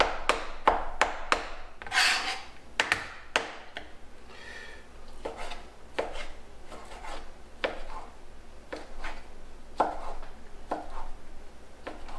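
A knife chops leftover Thanksgiving turkey for turkey salad: irregular, close, sharp knocks in quick bursts with short pauses between them, and no talking.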